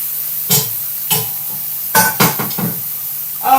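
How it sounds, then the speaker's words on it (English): Onions fry without oil in a Saladmaster pan, giving short bursts of sizzling hiss and stirring scrapes at irregular intervals, close and fairly loud. "we're frying the onions because we just need a little bit of the aroma"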